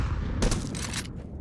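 Grenade blasts in a Counter-Strike pro match, a burst of explosive bangs rattling through the middle of the moment amid continuous game noise, with no talk over it.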